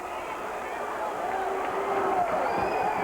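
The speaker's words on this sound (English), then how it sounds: "now you can hear the crowd as Roddy Piper makes his way through the crowd towards the ring" A wrestling crowd at a Portland Wrestling show as Roddy Piper, in his kilt, pushes through toward the ring. The roar is a steady, dense wash of distant babble and cheering with no clear breaks.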